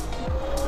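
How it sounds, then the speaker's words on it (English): A Sur Ron electric go-kart drifts and its tires squeal sharply in a brief, close burst over the steady electric motor whine. "A little more drift action."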